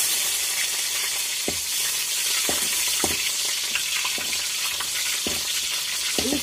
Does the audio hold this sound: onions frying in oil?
yes